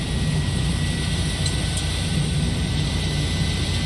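General Electric jet engines on an iniBuilds A300-600 in the X-Plane 11 simulator, a steady loud roaring hum with a constant whine, unchanging throughout with no talk.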